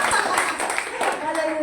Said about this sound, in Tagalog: Palakpak nyo.